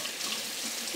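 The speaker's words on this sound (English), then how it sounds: "So let's get this pepper wash up." Tap water runs steadily over a pepper being washed in a kitchen sink, a soft continuous hiss and splash heard close by for the whole moment.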